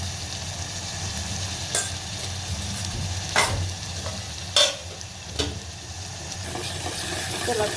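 Curry sizzles steadily as it is stirred and fried in a pan, with a few sharp scrapes and clinks of the spoon against the metal cutting through the constant frying hiss; no one speaks.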